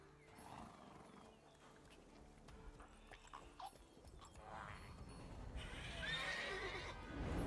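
Roach, a horse in The Witcher 3, gives a loud neigh and whinny while hooves clop on the ground, set against ambient game atmosphere near Kaer Morhen.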